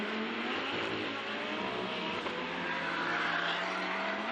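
A Craft Bamboo Racing Porsche GT4 race car heads for the checkered flag at a Blancpain GT Series Asia race in Zhejiang, its engine a continuous loud roar at high revs, heard at a distance with no talk.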